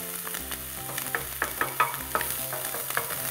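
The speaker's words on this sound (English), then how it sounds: "To saute in that lovely buttery ghee." Ginger and garlic puree sautéing in buttery ghee, a close, continuous sizzle broken by a series of sharp stirring scrapes and clicks at an uneven rhythm, with no voices.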